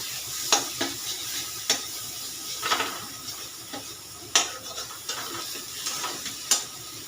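Dried chili fries in oil in a pan for a teasel gourd curry, sizzling softly under a string of sharp clinks and taps from a utensil against the pan.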